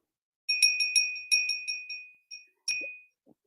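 A small bell rung repeatedly during a live community stream, bright clear metallic rings in a quick irregular series, then a pause and one more ring, fairly close and alone without talk.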